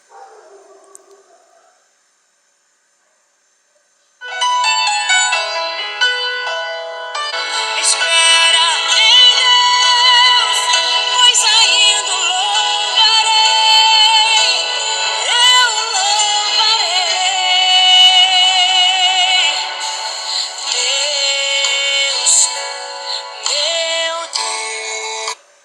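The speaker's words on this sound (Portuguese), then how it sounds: "Deixa eu ver se tem alguma música aqui para reproduzir." Music playing loud through the small built-in speaker of an Umi Plus E smartphone, thin and bright with little bass, running continuously after a few seconds of near silence.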